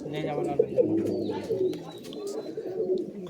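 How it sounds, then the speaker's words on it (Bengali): Lal Dumar pigeons, a red-tinged line of Giribaz tumblers kept at a home, coo softly and close, the low burbling partly mixed with background voices. "এটা লাল দুমার এই পায়রা"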